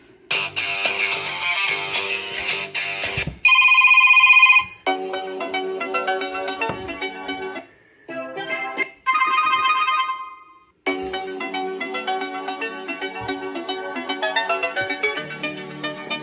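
An ASUS ROG Phone 5s plays its ringtone through stereo speakers: a bright, melodic electronic tune with several distinct phrases and brief pauses, loud and clear with no talking.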